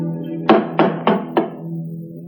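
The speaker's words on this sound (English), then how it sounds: "Just go ahead and knock." Four firm knocks on a door in an old detective drama, evenly spaced and close, each a hollow thud, followed by a quiet room.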